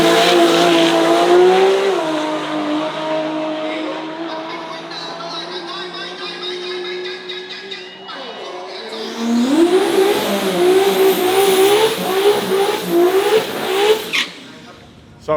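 A full drag race car with a two-speed Powerglide transmission, carbon doors and Lexan windows, at a drag racing event in Thailand. Its engine revs and climbs loudly in pitch, eases off, then roars up again in a second hard acceleration.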